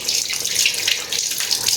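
Small chuno fish rubbed with salt and washed by hand under a running tap in a kitchen sink, a steady close hiss of flowing water with light splashing and shifting swells throughout, no voices.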